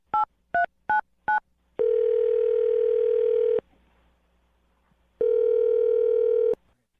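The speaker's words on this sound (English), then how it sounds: "I'm going to dial his phone number right now" Four quick telephone keypad tones beep in a row as a number is dialed, then a long steady ringback tone sounds twice with a quiet gap between.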